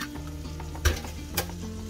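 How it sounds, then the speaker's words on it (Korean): Eclipta greens are stir-fried in a pan with a little perilla oil, giving a soft, steady sizzle with two sharper scrapes of the utensil against the pan. "볶다가 계란 넣어줄 거예요."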